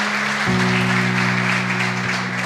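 A church congregation applauds during a celebration service, producing a steady wash of clapping throughout, with a sustained keyboard chord entering partway and ringing underneath.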